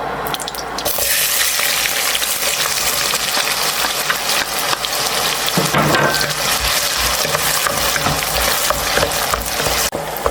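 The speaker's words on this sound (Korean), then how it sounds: "그 다음에 바로 양파 볶아줄게요" Onions stir-fry in a pan with curry leaves, producing a loud, dense, continuous sizzle with a brief quieter gap at the very start and faint stirring movement throughout.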